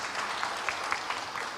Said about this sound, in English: Round of applause for Ms.